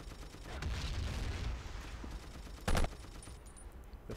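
Gunfire from the video game Battlefield 1942: a dense burst of rapid shots and rumbling blasts that fades, then one sharp, loud crack near the end, followed by quieter background game sounds.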